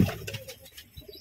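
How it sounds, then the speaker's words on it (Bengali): Several Kalshira pigeons, long-bodied birds with medium beaks, give soft rolling coos up close, with a few low throaty murmurs spread across a quiet background. "এই যে 3টে কালশিরা পায়রা রয়েছে এখানে পাশাপাশি"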